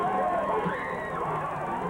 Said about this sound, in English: On Yonge Street, a huge crowd gathered to watch the game on a giant video screen.